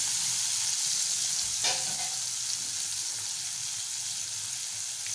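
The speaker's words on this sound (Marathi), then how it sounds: "आपण झाकण काढूया आणि छान परतून घेऊया" Soybean chilli, Malvani style, stir-fries in an uncovered pan, hissing in a strong, even sizzle for the whole stretch, with one brief clatter of a spatula near the start and no voices.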